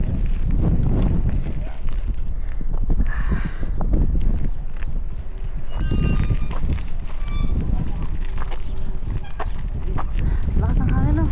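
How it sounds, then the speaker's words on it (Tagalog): Strong wind on a hilltop at Totara Park, New Zealand, buffets the microphone with a constant, heavy low rumble, while voices talk faintly in the gusts. "Lakas ng hangin no?"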